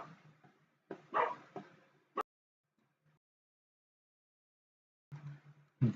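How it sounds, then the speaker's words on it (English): A pet dog barks a few short, sharp times indoors, scattered bursts separated by quiet stretches, fairly close and moderately loud. "I'm sorry for my dog barking."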